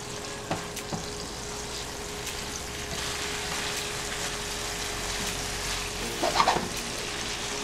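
Eggplant and pork belly with dark soy sauce stir-fry in a pan with a steady, soft sizzle throughout, a few small clicks early on and a brief clatter of stirring near the end, no talk.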